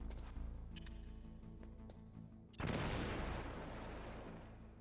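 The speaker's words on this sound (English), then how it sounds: "Explosions only happen on the floor they're on, and nowhere else." A single loud explosion booms in the Metal Gear Solid video game, sudden and broadband, then rumbles and slowly fades over steady in-game music and effects, with grenades in use nearby.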